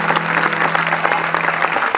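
An audience claps for a band member being introduced at a band's 15th-anniversary concert at El Pórtico in Crespo: a brief burst of dense, even applause, loud and close, with no voices over it.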